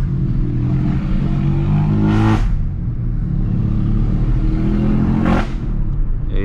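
Turbocharged VW Gol running open exhaust, a steady loud engine drone with two sharp revving bursts around two and five seconds, close and continuous without talk.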